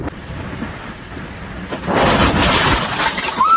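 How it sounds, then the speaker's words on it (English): Glass windows shattering as a powerful hurricane tears through Moscow, a loud, sustained burst of breaking and crashing debris that swells after a quieter rumbling stretch and carries on to the end. "The hurricane is destroying roofs and shattering windows."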